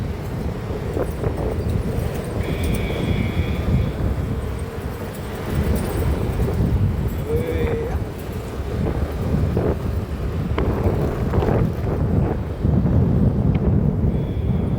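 Strong wind blows outdoors and buffets the microphone, a loud, continuous roar that swells and eases in gusts over a low rumble.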